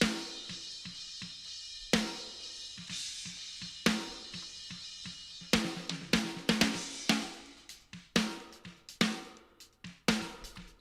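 Layered snare drum from a mixed rock track, a sampled snare blended with an acoustic snare and faint snare-bottom mic, sharp hits spaced about two seconds apart, then denser quick strikes with soft ghost notes between them, no voices.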